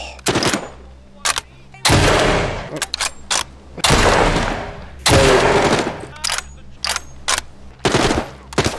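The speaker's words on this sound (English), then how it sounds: "now they're shooting me" Heavy automatic gunfire rips through a Walking Dead: Saints & Sinners game fight, loud repeated bursts and long sprays coming in waves at close range, with a man's brief startled exclamation between them.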